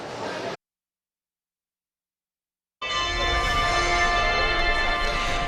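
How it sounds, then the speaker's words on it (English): Final bells ringing in the Tobin Center lobby, clear sustained tones after a brief noisy burst and a silent gap, steady and fairly close. "those final bells ringing here"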